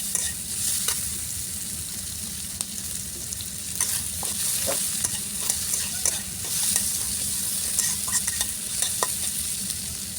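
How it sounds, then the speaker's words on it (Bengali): Chopped onions hit hot leftover chicken-frying oil in a wok and sizzle steadily while being stirred, with frequent scraping and clacking strokes over the continuous close frying hiss. "ওই যে কড়াইয়ে মুরগি ভাজার যে তেল আছে, এটার মধ্যে আমি পেঁয়াজ কুচিগুলো দিয়ে দিচ্ছি।"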